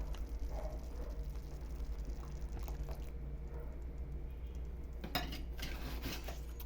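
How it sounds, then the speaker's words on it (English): Quiet stirring of milk into quinoa in a pot, a spoon scraping and clinking against the sides with soft liquid sounds, a low steady hum underneath. "I'm going to mix the milk with our quinoa"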